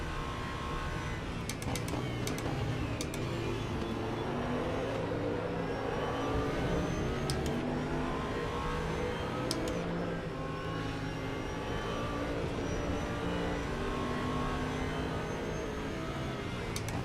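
An Audi R8 LMS race car lapping Road America in the RaceRoom sim gives a constant engine drone with gently rising and falling pitch, broken by a few sharp clicks.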